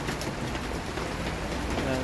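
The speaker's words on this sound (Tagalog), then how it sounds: "yung lakas ng ulan" Dense, steady hiss of heavy morning rain pouring down, with a voice faintly talking underneath.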